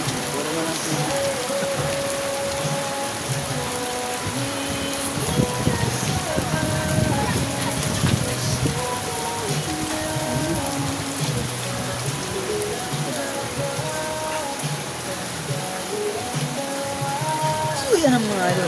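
Heavy monsoon rain driven by Typhoon Luis pours down in a steady, dense roar that holds for the whole stretch, with a faint voice underneath at times.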